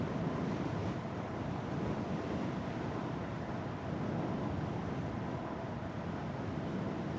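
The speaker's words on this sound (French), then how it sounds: "je me prends du vent dans la visière" Strong wind roars against a closed helmet visor as a rider travels on a Segway GT3 Pro electric scooter, a loud, continuous rushing buffet that fills the whole stretch without a break.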